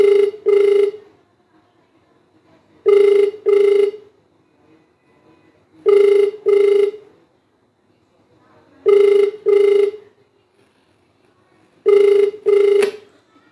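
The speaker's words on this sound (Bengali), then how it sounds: "আমি আর একবার ফোন লাগাই," A telephone ringback tone on an outgoing call, repeating in regular double pulses about every three seconds, loud and clear with no voices.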